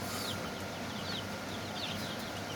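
Chickens in a coop give soft, repeated clucks over a steady background murmur of the flock, moderately close and without any talk.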